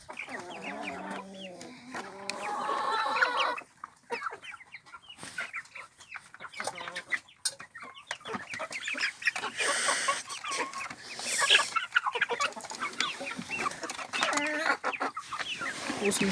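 Backyard hens that have stopped laying in cold weather cluck repeatedly and close by, with busy overlapping calls and some louder squawks through the whole stretch.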